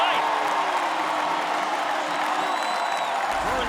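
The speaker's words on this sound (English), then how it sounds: "Burton's mom and dad applauding the effort" Parents clap and cheer in the stands after a touchdown catch at a Florida Atlantic at Purdue college football game, continuous crowd applause with an announcer talking over it.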